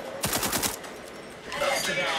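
A quick burst of automatic gunfire rattles out in the shooter video game Rogue Company, several fast close shots, then a short lull before more shooting resumes in the background.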